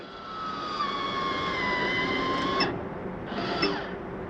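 A 2024 Intech Flyer Discover camper's power exhaust vent runs with a steady whirring fan hum and high motor whine, then shuts off and briefly restarts, close by and fairly quiet.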